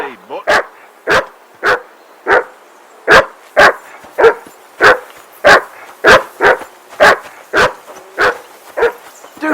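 A dog in Kingdom Come: Deliverance II barks repeatedly in loud, close, evenly spaced yelps, about twenty in a row with a whimpering, yippy edge, each bark sharp and separated by brief silence.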